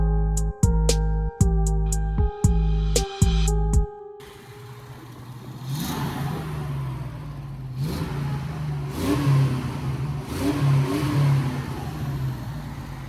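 A Fox Body Mustang V8 engine revs up several times, rising and falling in rough, throaty bursts, after a series of beeping warning chimes at the start.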